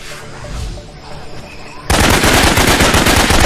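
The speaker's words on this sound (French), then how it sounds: "Et il me tire dessus." Enemy gunfire in the jungle shooter game Raven Squad: quiet ambience then a sudden loud burst of sustained rapid automatic fire, close and dense.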